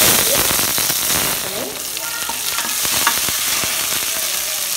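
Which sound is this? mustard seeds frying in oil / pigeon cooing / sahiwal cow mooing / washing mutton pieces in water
mustard seeds frying in oil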